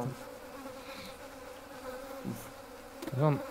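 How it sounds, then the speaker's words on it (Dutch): Flies buzz in a Bigfoot-hunting video game, a continuous insect drone with a louder buzz swelling near the end, carried over a dim ambient background. "En er zitten ook allemaal vliegen hier of zo."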